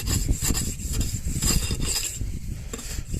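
English pointing trowel scraping along a fresh mortar joint: gritty, rasping strokes repeating unevenly, close and moderately loud, with no voices.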